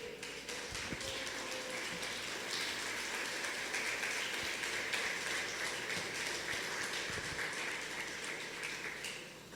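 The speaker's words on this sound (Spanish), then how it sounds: "Denle un aplauso fuerte al Señor." Steady, loud applause from a church congregation fills the whole stretch, a dense, even wash of clapping with no voices standing out.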